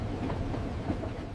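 A train running on rails, heard as a steady low rumble with faint rhythmic clatter from the wagons, continuous and fairly quiet with no voices over it.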